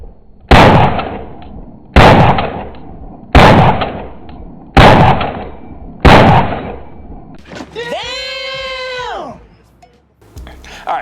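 STI DVC Open pistol firing 121 grain Montana ammunition: five sharp, loud shots at an even pace roughly every second and a half, each with a short decaying tail, followed by a brief tonal whine.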